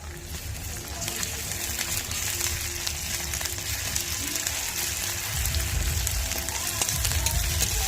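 Onions frying in a pan for a Bengali fish curry, a steady, moderately loud crackle and sizzle running throughout with no talk.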